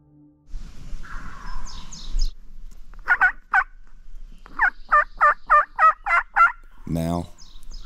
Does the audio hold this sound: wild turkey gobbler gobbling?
yes